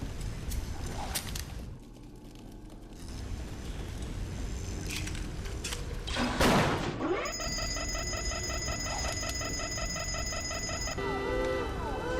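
In BioShock, a security camera's alarm blares as a steady electronic beeping pattern over dense game ambience, loud and continuous after a brief whooshing swell.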